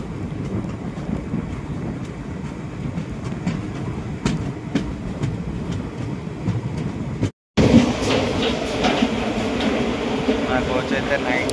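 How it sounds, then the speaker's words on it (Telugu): Secunderabad SF Express 12746 pulling out of Karepalli Junction, its ICF coaches giving a steady broadband rumble with rhythmic wheel clatter throughout, cut by a brief dropout midway before the rolling noise returns louder. "అది 35 minutes డిలేతో అయితే కారేపల్లి జంక్షన్ నుంచి మన ట్రైన్ అయితే డిపార్ట్ అయిపోయింది."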